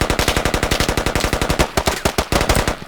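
Rapid automatic gunfire in the PC game Squad on a forest map, a long sustained burst of evenly spaced loud shots, briefly broken and then resumed, with no voices.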